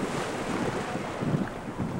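Caribbean surf washing just off the seabed close to a camera held a few inches above the floor, a steady loud rush of churning water and wind-like noise with no voices.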